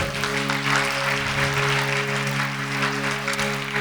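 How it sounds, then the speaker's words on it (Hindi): A crowd at a Shri Vishnu Mahayagya religious discourse gathering in Ballia gives strong, continuous applause, heard over a steady electrical hum from the sound system. "एक बार जोरदार तालियां आप सबके लिए"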